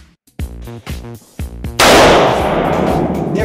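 Rifle shots fired through a barrel being treated with XADO gel-revitalizant: several sharp, loud reports in quick succession, the last one followed by a long, broad, rushing roar that stays strong to the end.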